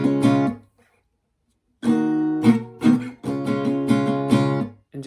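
An acoustic guitar strums the opening chord block of a song in a down-up pattern, with a brief strum, a pause, then a run of rhythmic chords, close and clear with no voices.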